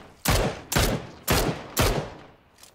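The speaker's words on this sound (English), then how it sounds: "I'm being shot from 105 in the field." Gunfire in PUBG, four sharp, loud shots spaced roughly half a second apart, each with a short echoing tail, then a fainter fifth shot.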